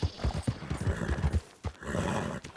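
A horse in Red Dead Redemption 2 clops along in quick rhythmic hoofbeats, then gives a short neigh and snorting breath, close and moderately loud.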